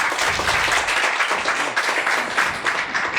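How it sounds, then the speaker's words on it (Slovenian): Studio audience applause during a Slovenian television tourism show, loud sustained clapping from a crowd that stays dense and even for the whole stretch, with no talking over it. "En aplavz, prosim."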